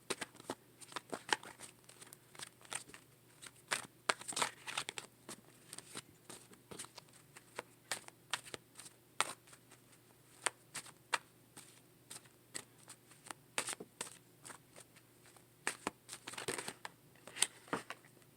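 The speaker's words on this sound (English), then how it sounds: "If you could just bear with me while I go ahead and shuffle." A deck of tarot cards being shuffled in repeated quick riffles and taps, crisp and close, with short pauses between bursts.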